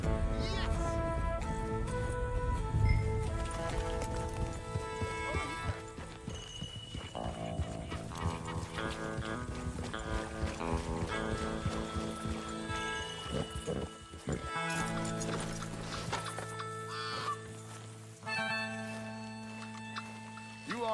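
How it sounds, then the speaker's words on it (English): Rhythmic horse hoofbeats gallop beneath loud, busy game music that fills the whole stretch, in Red Dead Redemption 2. "but I can ride a horse."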